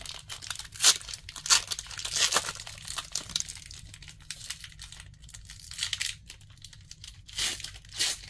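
Close crinkly tearing of a Lorcana trading card pack's foil wrapper, a series of sharp rips and crackles spread over several seconds, with no voices.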